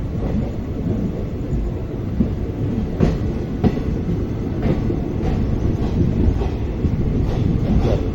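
A passenger train, Yeshvantpur to Sindhanur service number 16545, pulls out of Gubbi station in Karnataka, a steady close rumble of rolling wagons broken by periodic wheel clacks at rail joints, with no talk.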